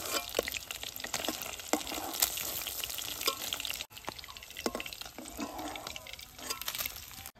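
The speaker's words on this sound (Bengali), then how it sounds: "মাছ হালকা করে ভেজে নিয়েছি, এখন নামিয়ে নেব।" Pieces of katla fish frying in a pan of hot oil, a steady close sizzle with bursts of crackle and spatter, briefly dipping near the middle before continuing.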